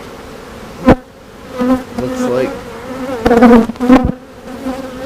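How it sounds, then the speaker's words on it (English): Honeybees swarm loudly around an open beehive, a close, dense buzzing hum with wavering pitch and occasional sharp knocks, while a person speaks briefly. "Golly, that's a lot of bees."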